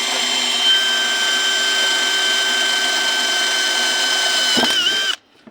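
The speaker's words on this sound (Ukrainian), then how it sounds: "А саме будемо сверлити отвори, застосовуючи цю смазочку." A power drill bores holes with silicone spray lubricant applied. It whines at a steady, high pitch for about five seconds, loud and near, dips briefly under load, then stops abruptly.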